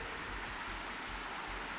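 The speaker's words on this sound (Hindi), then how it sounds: "मैं चुप होता हूँ और आप पानी की आवाज़ सुनिए" A strong stream of water rushes down from high mountains, producing a steady, dense, hissing roar that stays constant throughout, heard alone without any voices.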